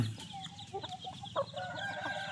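Fighting cock crowing and clucking nearby in cold, dry early-morning air, several short calls and clucks repeating over a low background of other fowl, with no talk.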